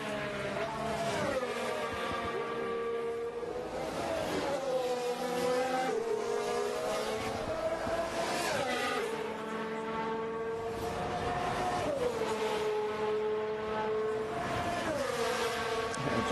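Formula 1 cars in practice on the Jeddah street circuit in Saudi Arabia, engines whining in rising and falling pitch sweeps as they pass and shift through a fast chicane, heard at a distance under quiet commentary.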